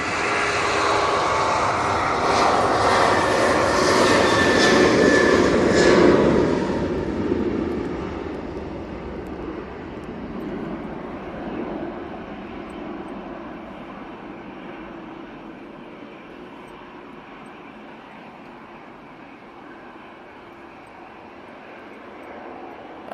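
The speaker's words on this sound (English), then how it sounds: "Next out, we have the EasyJet to Barcelona. It's an A320-200." An EasyJet Airbus A320-200 airliner departs with a loud, broad jet engine roar that peaks early and then slowly fades into a long distant rumble.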